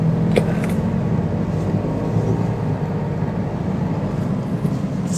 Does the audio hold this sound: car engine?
yes